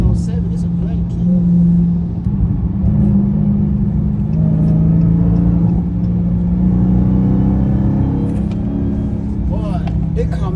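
A Dodge Hellcat's engine rumbles loud and close, deep and steady, with slight swells as it revs, while voices talk over it.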